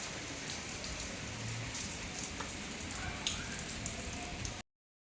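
Steady rain pours down all around a home, a dense, even hiss of drops on the floor and surfaces with scattered close pattering and no talking.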